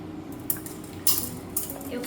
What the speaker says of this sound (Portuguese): Agora é muito simples para desfiar o frango.